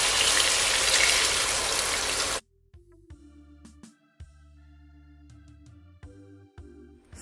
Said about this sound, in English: So now that I add my water